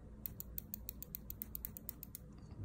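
The unidirectional bezel of an orange Seiko SKX011J1 diver watch is turned, giving a quick, steady run of about fifteen tiny metallic clicks, very faint and close, over quiet room noise.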